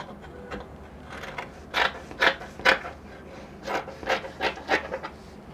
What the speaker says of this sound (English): Then you're going to trim it off.